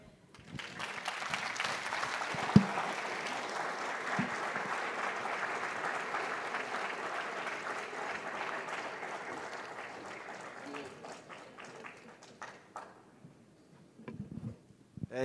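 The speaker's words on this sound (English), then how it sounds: "give him another round of applause." An audience at a talk on biblical cosmology claps steadily for over ten seconds, a dense patter of hands that fades toward the end, with a faint voice at the close.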